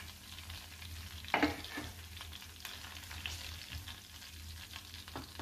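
Spices temper in hot oil in a pan for chicken changezi, a close steady sizzle with a sharp crackling burst as ingredients hit the pan, then continued frying and stirring.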